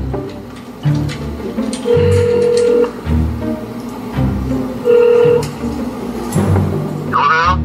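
A telephone dials and rings through a phone line, with steady tones repeating between stretches of background room noise and movement behind the scenes of a GSL StarCraft broadcast.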